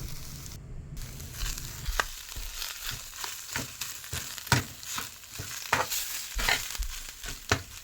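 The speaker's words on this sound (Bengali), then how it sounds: "ভালো করে নাড়াচাড়া করে নেব আলুর সাথে" Potatoes with spices are stirred in a frying pan over an oily sizzle, with repeated spatula scrapes and clanks in an irregular rhythm, close and moderately loud.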